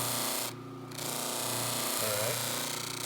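Old motor fitted with a buffer wheel spinning, a steady close mechanical hum and whir with a brief drop in level and a short rising whine partway through.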